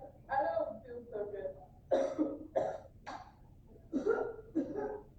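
Several harsh coughs in separate bursts, close and fairly loud, with short pauses between them and no talking.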